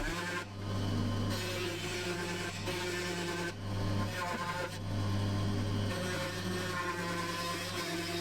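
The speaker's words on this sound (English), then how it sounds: "I then cut out the profile on the bandsaw." A bandsaw cuts the profile of a wooden chess piece, humming steadily and fairly close, its blade noise rising and dipping slightly as the wood is fed.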